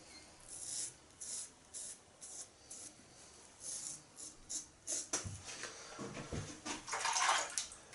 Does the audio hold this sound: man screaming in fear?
no